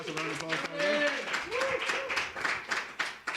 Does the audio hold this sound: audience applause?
yes